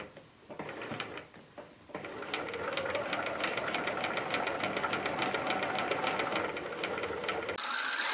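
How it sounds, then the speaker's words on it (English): A sewing machine stitches twin-needle corded pintucks with pearl cotton, starting with a few slow stitches and then settling into a steady, fast, close mechanical whir that runs without talk before stopping near the end. "we're going to start sewing"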